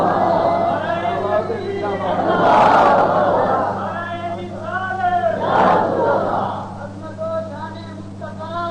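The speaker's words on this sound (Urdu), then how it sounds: "اچھی آواز پر تکبیر دے نعرے مارو" A large crowd at a religious gathering shouts takbir slogans in unison in two loud surges, voices swelling together over a steady low hum and ongoing amplified speech.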